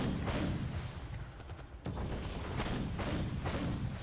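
Artillery barrages in a WWI strategy game set in East Prussia, 1914: a dense, continuous rumble of distant booms and thuds with repeated heavier hits, loud and sustained without any voices.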